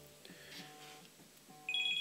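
Over a quiet background, a telephone rings in a room, a pitched electronic tone pattern that grows louder and sharper near the end.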